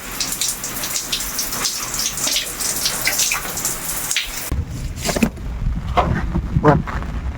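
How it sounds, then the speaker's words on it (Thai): Water from a shower at a rainy mountain campsite in Chiang Mai gives a steady, close broadband hiss of spray that shifts in tone and texture partway through, with occasional splashes. "ขอตัวอาบน้ำก่อนนะครับ"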